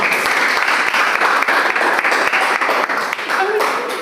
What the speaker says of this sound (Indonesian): tepuk tangan dong buat kelompok 1